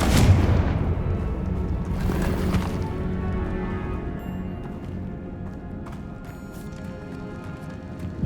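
A Confringo blasting spell explodes in the video game Hogwarts Legacy, a loud booming burst at the start with a second blast around two seconds, followed by a rumbling, decaying tail.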